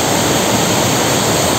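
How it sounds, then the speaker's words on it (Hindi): Gasumo waterfall in Mwaro, Burundi, pouring from the top, heard as a loud, steady, close roar of falling water that fills the whole clip. "झरना यहाँ से निकलता हुआ"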